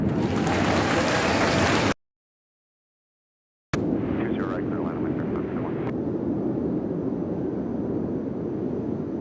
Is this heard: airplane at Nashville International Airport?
yes